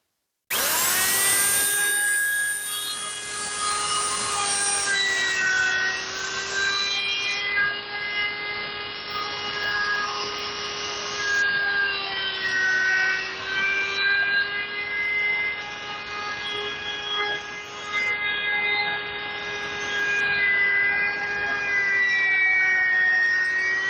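A router fitted with a half-inch round-over bit whines steadily and loudly while shaping the top edge of a wooden toy Ford Model A's engine compartment, its high pitch wavering slightly as it cuts, with no talking.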